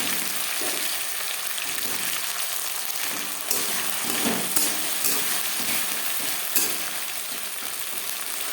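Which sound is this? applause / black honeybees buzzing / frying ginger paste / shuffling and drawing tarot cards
frying ginger paste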